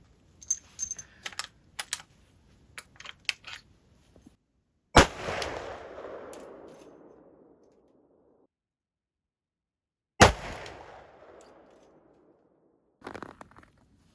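Sharp .375 rifle shots with 200-grain Sierra bullets at an outdoor range, two loud isolated cracks each trailing off in a rumbling echo, set among scattered lighter clicks and taps.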